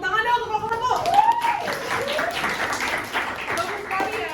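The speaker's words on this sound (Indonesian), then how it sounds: "tepuk tangan dong untuk kelompok 1" Students in a Year 10 sociology classroom clap their hands for a group, a burst of close, dense claps mixed with children's voices and a teacher's speech.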